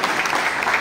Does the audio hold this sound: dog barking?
no